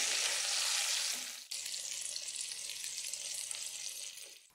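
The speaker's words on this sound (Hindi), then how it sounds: "तो ये देखिए कबाब हमारे फ्राई हो गए हैं," Kebabs frying in oil over a medium flame, giving a loud, steady sizzle that drops off sharply for a moment before resuming, with no voices.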